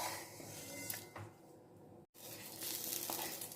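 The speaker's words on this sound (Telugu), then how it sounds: "నేను పచ్చి కొబ్బరి వేయించుకుంటున్నానండి." Fresh grated coconut fries in a pan with a steady, faint hiss and sizzle, briefly broken by a stir and a short cutoff.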